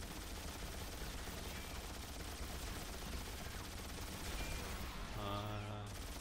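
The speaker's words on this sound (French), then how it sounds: "Wolverine avec une mitrailleuse." In the X-Men Origins: Wolverine video game, Wolverine fires a machine gun in a dense, continuous rattle. The steady roar of gunfire fills the whole stretch, with a brief voice near the end.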